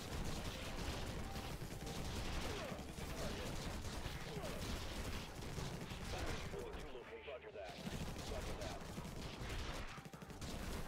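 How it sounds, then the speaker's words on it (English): Turrets blast away at infesting alien swarms in the game Infested Planet, a dense, continuous roar of rapid gunfire and explosions that stays loud almost throughout, with only a brief thinning near the end. "this turret is actually doing a really nice job of cutting off their"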